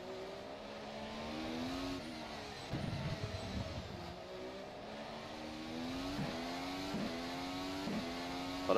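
A Formula SimRacing FSR 2018 development car in rFactor 2 drones with a steady high engine note that rises and dips through gear changes and corners, continuous and close.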